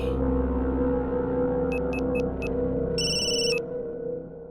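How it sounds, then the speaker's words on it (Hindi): A telephone rings with short repeated electronic trills followed by a longer ring, heard over a low steady hum in an indoor scene from a Hindi film. "हाँ बोल टिल्लू, अचानक कैसे फोन कर दिया?"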